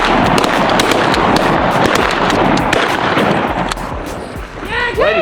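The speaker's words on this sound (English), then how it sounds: "Way to shoot. Good shooting" Several loud, close shotgun blasts crack in quick succession during a late-season duck hunt in Oklahoma, followed by a lull, then faint duck calls and hunters' voices near the end.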